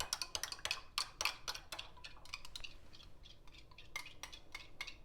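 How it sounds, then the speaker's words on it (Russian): A spoon stirs a thin water and yogurt sauce in a bowl, giving quiet, irregular clinks and taps that cluster, pause, then pick up again, close but faint. "И все, просто размешивайте"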